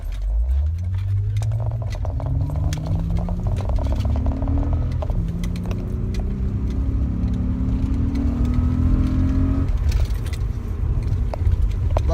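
A car on a 55 mph road accelerates from inside the cabin, the engine note climbing in rising sweeps through the gears, steady and fairly loud, with a light jingle of keys and no talk.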